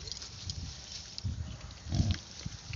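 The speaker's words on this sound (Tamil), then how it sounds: "இந்த பன்னியும் பன்னிக்குட்டிங்களும் சாப்பாட்டுக்கு எவ்வளோ கஷ்டப்படுது" Pigs and piglets rooting for food make low, short grunts in quick irregular bursts, fairly soft and close, with a couple of louder snorts standing out.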